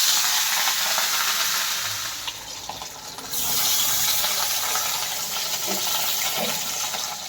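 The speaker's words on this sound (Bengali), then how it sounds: "মাছগুলো সব ভেজে তুলে নিয়েছি" Fish seasoned with salt and turmeric fries in a hot wok (kadai), giving a continuous loud, hissing sizzle with faint crackles and stirring, close up and steady for several seconds.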